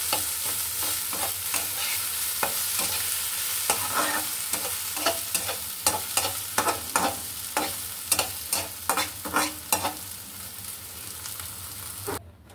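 Water spinach greens fry and sizzle in a pan while being stirred, with a steady hiss and a run of sharp scraping and tossing knocks close by.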